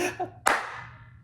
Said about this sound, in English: we're going to do the clap test in here and just see how it sounds